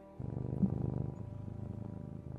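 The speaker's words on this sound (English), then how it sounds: "Found a cat." A cat purrs close by, a soft, steady low rumbling with a regular pulsing rhythm that keeps going, quiet and alone.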